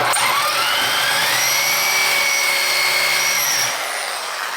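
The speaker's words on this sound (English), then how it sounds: "And just drill it like so." Drill boring a hole with a 3/8 bit on a CNC machine project, a loud steady whirring whine that rises in pitch and holds for a few seconds before winding down.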